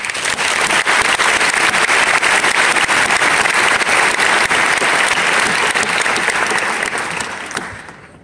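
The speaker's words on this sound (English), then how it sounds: "everybody give her a round of applause" Loud, dense applause from an audience at a school award night, continuous and even for several seconds before tapering off near the end, with no voices standing out.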